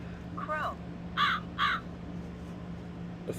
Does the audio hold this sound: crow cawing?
yes